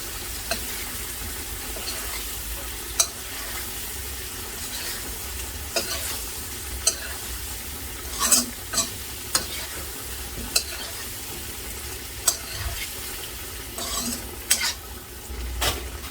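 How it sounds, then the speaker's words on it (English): Shallot and scallion fry in a pan for a catfish curry, giving a steady close sizzle throughout, punctuated by sharp clicks and scrapes of a utensil stirring against the pan. "So you gotta just fry it a little, then we got the scallion after."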